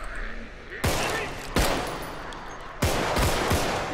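Gunfire in the zombie survival game Contagion: three sharp, loud shots spaced about a second apart, each with a short decaying tail, over quiet game ambience.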